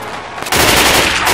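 Sustained automatic gunfire in the zombie shooter Left 4 Dead 2, starting abruptly after a quieter moment and continuing as loud, dense rapid bursts without a break.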